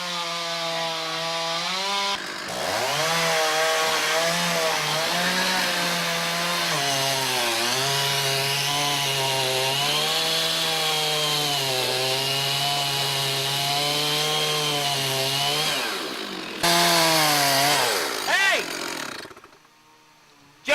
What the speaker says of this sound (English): Every cut we're making here is a trunk cut on a massive tree.